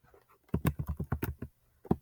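Quick bursts of keystrokes on a computer keyboard, a short flurry of about a dozen clicks followed by a brief pause and a couple more taps, close and clear.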